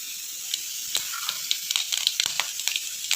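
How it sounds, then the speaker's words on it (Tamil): Mustard seeds and lentils sizzling in hot sesame oil, a steady crackling hiss with frequent sharp pops as the seeds burst, close and fairly loud, with no talking. "எண்ணெய் காஞ்சதும் கடுகு பருப்பு சேர்த்துக்கிறோம்."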